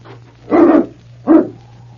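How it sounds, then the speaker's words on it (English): A dog barks twice, two loud, close barks about three-quarters of a second apart over a steady low hum, with no one talking. "he was barking before they even got to the door"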